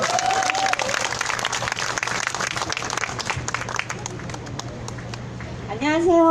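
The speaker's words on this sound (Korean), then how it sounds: "힘찬 박수 부탁드립니다." A crowd claps at a Wednesday protest rally in Korea over wartime sexual slavery by the Japanese military, brisk continuous applause with a speaker's voice briefly at the start and again at the end.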